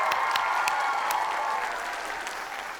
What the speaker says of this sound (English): So we need to give Martin Brown a really big cheer.